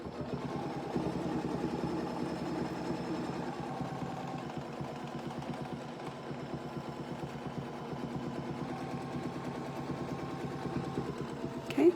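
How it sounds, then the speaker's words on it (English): A quilting sewing machine stitches crosshatch lines across a quilt, guided along a Spinifex ruler: a steady, fast mechanical hum with a rapid, even stitching pulse, moderately close and continuous throughout, ending in a brief louder knock. "If I'm sewing forward, I'm pushing to the back of the machine"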